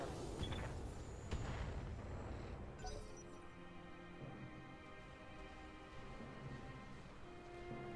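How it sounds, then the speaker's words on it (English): Weapons fire in the mech video game Roguetech, with a burst of heavy booming shots and impacts early on followed by a fading, ringing tail over a quiet background. "All weapons, fire."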